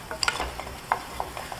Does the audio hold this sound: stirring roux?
yes